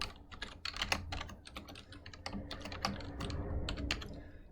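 Fast typing on a computer keyboard, a steady patter of close, quiet key clicks with brief pauses, and no voices.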